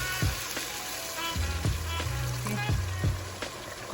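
Steady bubbling and sizzling of water coming to a boil over rice for hashweh stuffing, continuous and close, with occasional louder pops and clinks.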